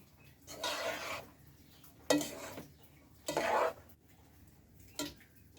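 A spatula stirring fried rice with egg pieces and sauce in a pan: four separate scraping, rustling bursts of a few seconds each, close up, with faint quiet gaps between them.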